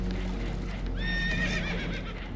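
Spooked horses whinny aboard a boat taking on water in Red Dead Redemption 2, one loud, shrill, wavering neigh rising over a steady low rumble of water and engine noise.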